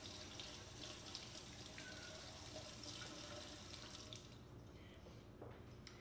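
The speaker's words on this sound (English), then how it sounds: "so now I'm going to rinse this off" Tap water runs steadily into a sink while etched glassware is rinsed underneath, a close continuous splashing hiss that thins out toward the end.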